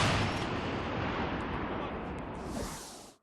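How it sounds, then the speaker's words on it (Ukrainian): A loud artillery cannon blast on a front line near Kupiansk, Ukraine, rolls into a heavy, continuous rumble that stays strong for about three seconds before cutting off. "Гармата! Постріл!"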